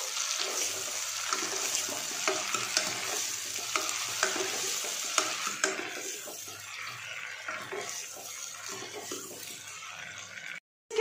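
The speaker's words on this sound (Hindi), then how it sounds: "फिर से इसे घुमा लेते हैं" Onion sabzi with finely chopped mint leaves being stirred in a pressure cooker, a steady busy sizzle with scraping stir strokes running throughout at close range, ending in a brief drop to silence.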